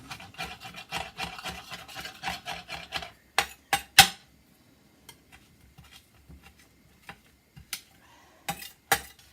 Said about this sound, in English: So I'm just going to squish the garlic and then I will put that in like so.